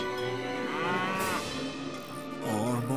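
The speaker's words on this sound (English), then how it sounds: "When Molly and Gil get cows to move along" Several cows moo in a steady run of long, loud, drawn-out calls, one low bellow blending into the next, with a brief dip before a final moo.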